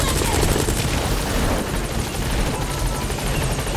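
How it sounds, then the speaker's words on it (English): A support helicopter arrives in Metal Gear Solid V: The Phantom Pain, its loud, continuous rotor chop filling the scene with a dense, steady roar. "Support helicopter has arrived."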